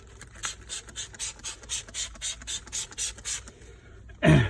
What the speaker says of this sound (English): I'll just spray it all over the area that I've just cleaned.